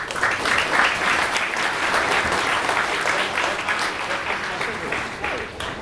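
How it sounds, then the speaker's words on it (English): An audience applauds steadily and densely through the whole stretch, a moderately loud wash of many hands at a business presentation, with no talk over it. "And a round of applause."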